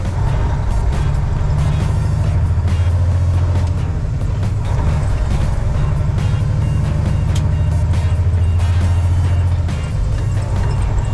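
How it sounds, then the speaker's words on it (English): A heavy truck engine drones steadily with a deep, constant low rumble and gear whine, loud and continuous with no talking. "Truck sounds really good."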